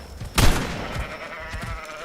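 A sheep in the video game Ark: Ragnarok lets out a sudden loud bleat, with quieter game ambience and faint background noise continuing after it.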